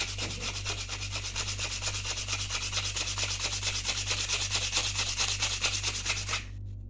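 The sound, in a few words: rubbing a nail tip to sharpen it for an arrow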